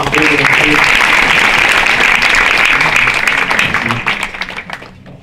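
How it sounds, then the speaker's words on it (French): An audience at a startup event applauds loudly as someone is called onto the stage, a thick burst of clapping that holds steady and then tapers off in the final second. "Vous pouvez l'applaudir, s'il vous plaît."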